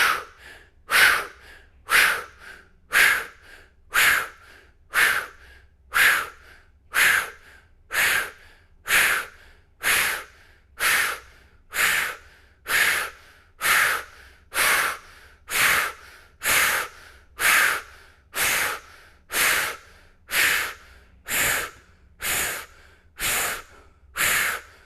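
Deep, forceful breath-work breathing repeats in a steady cycle of about twenty-five strong rushing breaths, each close and loud, with no talking.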